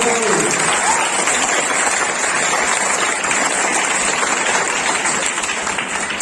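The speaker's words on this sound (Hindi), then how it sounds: "ताली बजाइए बच्चे के लिए" Schoolchildren applaud a classmate during a 15th August Independence Day celebration at a school, a dense, steady patter of many small hands sustained for several seconds, loud and close.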